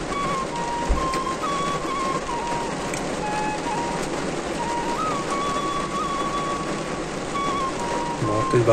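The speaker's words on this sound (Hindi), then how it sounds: "बहुत तेज बारिश हो रही है और मौसम भी बहुत ठंडा हो गया है" Heavy, steady rain pours down in a dense, continuous hiss in cold weather in the mountains of Uttarakhand, India, with a faint low rumble underneath and no one speaking.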